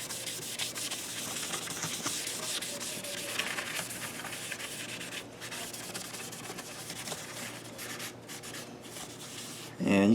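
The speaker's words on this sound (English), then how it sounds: "Now we're just going to use some mineral spirits to wipe off some of this stuff." A cloth rubs and wipes across wood soaked with mineral spirits in a soft, continuous scrubbing rustle, fairly close, with a brief louder scuff at the very end.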